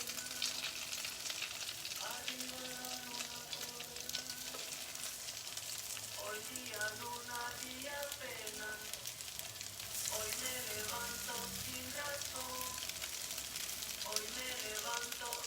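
Grain-free cauliflower falafel patties frying in a pan give off a soft, steady sizzle and crackle throughout, quiet and close, with faint tonal background sounds.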